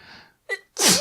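Person sneezing: a short sharp build-up and then a loud, explosive sneeze, close by and alone.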